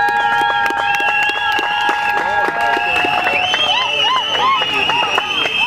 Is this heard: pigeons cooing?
no